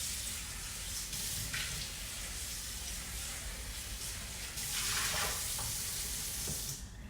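Tap water runs steadily into a kitchen sink as something is rinsed under the stream, a broadband rush that swells louder partway through and then cuts off near the end, with no talking.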